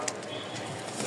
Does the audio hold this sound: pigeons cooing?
yes